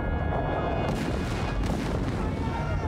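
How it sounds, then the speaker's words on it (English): Cannon on a city's coastal water battery at Derna firing on U.S. Navy ships in 1805, a dense, rumbling barrage of booms that fills the whole stretch with heavy, continuous low thunder. "Cannon on the city's water battery fire the first shots, attacking the U.S. Navy ships."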